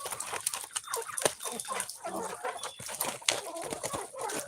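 Chickens clucking in a noisy farmyard, busy overlapping clucks and calls with bursts of louder squawks, fairly close and continuous.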